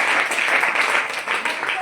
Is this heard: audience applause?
yes